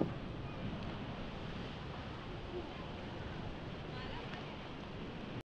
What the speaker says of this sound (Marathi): लाटा पण खूप वाढत चालल्यात